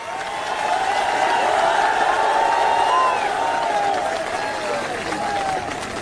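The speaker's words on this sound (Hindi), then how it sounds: "एक बार जोरदार तालियां हमारे सभी युवा साथियों के लिए।" A political rally crowd claps and cheers loudly at once, the applause swelling and then easing off, with whoops and voices mixed into the steady roar.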